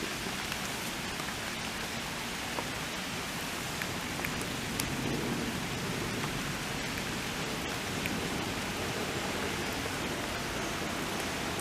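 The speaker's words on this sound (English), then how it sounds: "It's just standing here in the rain" Steady rain falls over a lush, healthy garden, a dense even hiss with scattered droplet ticks throughout, continuous and alone with no voices.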